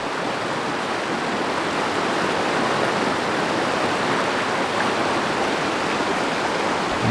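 The flooding Poudre River rushes through its rocky Colorado canyon after heavy rain, a loud, steady roar of churning water filling the whole scene without letup.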